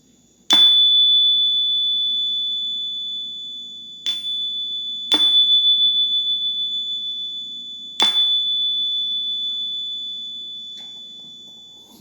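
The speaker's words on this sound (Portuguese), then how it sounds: "eu toco o sininho novamente" A small meditation bell is struck four times at a quiet meditation session, each clear ring leaving a long, pure, slowly fading tone that hangs over soft background hiss.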